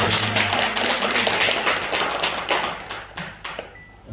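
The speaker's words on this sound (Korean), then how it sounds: "다시 한번 하나님께 영광의 박수 올려드리겠습니다." Church congregation at Sunday worship applauding, a steady burst of many hands clapping close and full, tapering off toward the end with no talking over it.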